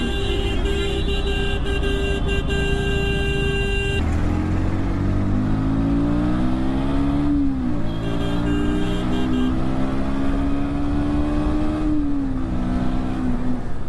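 A motorcycle is ridden at about 63 km/h through heavy, jammed traffic in the Kamarhati area, its engine droning steadily with rising and falling revs under loud wind rush and some horns in the distance, recorded on a Sony ECM-LV1 lavalier mic.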